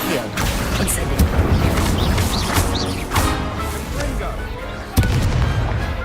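A fire spell cast during a wizard duel in the Hogwarts Legacy video game, heard as a dense roar of booming, crackling magical blasts with a sharp burst near the end, set among busy game effects and voices.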